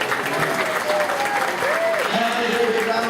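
Audience applause at a big cat rescue show, a steady wash of clapping and crowd noise lasting the whole moment, with a faint voice or tones running underneath.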